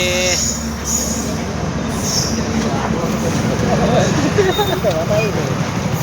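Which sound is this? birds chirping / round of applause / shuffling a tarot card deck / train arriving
train arriving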